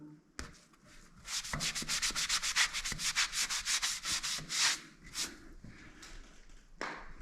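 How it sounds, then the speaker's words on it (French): Drywall filler on a ceiling being sanded by hand in a renovation, a close run of rapid rhythmic rasping strokes, a dozen or more in quick succession, then a few slower separate scrapes. "Donc, tu vois le ponçage."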